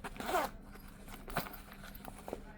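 Zipper on a pencil pouch pulled in a quick, close zip, then a few fainter scratchy tugs and clicks, quiet and without talk.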